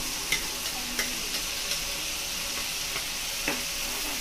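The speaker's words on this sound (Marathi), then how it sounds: "आपण ह्याला तेल सुटेपर्यंत चांगला मसाला भाजून घेणार आहे" Onion and tomato masala paste fries in oil with a steady, close sizzle, broken by a few light clicks and taps of a spoon stirring the pan, with no one speaking.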